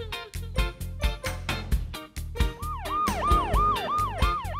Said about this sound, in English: Amber the ambulance drives past